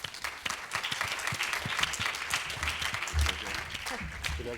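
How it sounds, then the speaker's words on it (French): An audience at a Grand Prix awards ceremony gives the winner a round of applause, brisk and continuous clapping from a moderately sized crowd, with a few voices mixed in. "On peut l'applaudir, je crois, une dernière fois."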